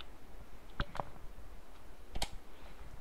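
Faint computer mouse clicks while working in a spreadsheet, a couple of quick double clicks spaced over a few quiet seconds.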